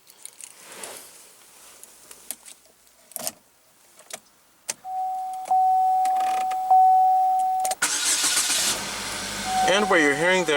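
The 2.4-liter inline four-cylinder engine of a 2016 GMC Terrain cranks and catches, preceded by clicks and a steady electronic chime, then settles into a loud, even idle close by.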